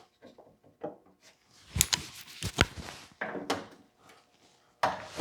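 Door handling on a 1962 Cadillac Series 60 Fleetwood during door bottom repair, a sequence of hollow metallic thunks and clunks with quiet gaps between, close by and without talk.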